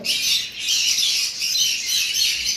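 A breeding pair of pet birds squawking in continuous shrill, overlapping calls, close and fairly loud, with no talk.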